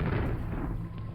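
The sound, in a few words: grenade bouncing and exploding in a video game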